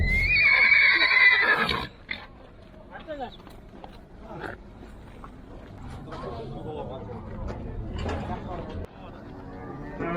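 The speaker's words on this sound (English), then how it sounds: "Horses. Horses." Horses at a livestock market in Kyrgyzstan: a loud, drawn-out whinny opens, then fainter snorts and movement continue under people talking in a busy, noisy crowd.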